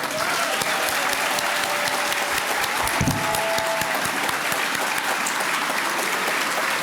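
Large Kenyan audience in the UK gives a head of state sustained, loud applause, a dense unbroken roar of clapping with faint voices and a brief thump partway through.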